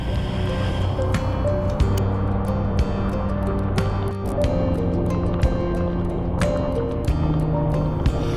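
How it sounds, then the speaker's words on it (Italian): Heavy thunderstorm rain during a motorcycle ride, loud and close, drumming steadily on a riding suit and helmet with constant spattering and dripping, no voices. "E vai cielo con l'ennesimo temporale!"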